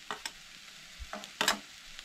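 Mixed vegetables for cutlets sizzling in a pan as ginger garlic paste goes in, with a soft frying hiss and a few sharp scrapes of stirring.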